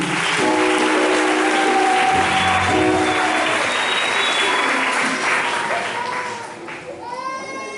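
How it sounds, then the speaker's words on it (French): A church congregation applauds during a consecration service, steady clapping that fills the space from start to finish and begins to thin out near the end, with voices mixed in. "On acclame Jésus"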